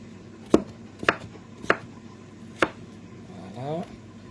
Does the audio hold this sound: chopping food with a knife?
yes